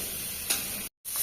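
Water is splashed into a pan of frying meat in a village kitchen, giving a bright crackling sizzle with a sharper burst partway through, close and alone, then a brief break.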